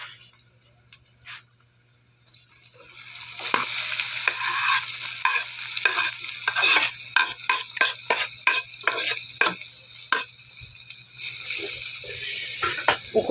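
Sliced ingredients for dinuguan hit a hot pan after a quiet start, then sizzle steadily while a utensil scrapes and stirs in quick, regular strokes close by.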